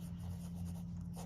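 Marker or chalk writing on a board during an English grammar lesson, a soft, steady scratching close by over a low constant hum.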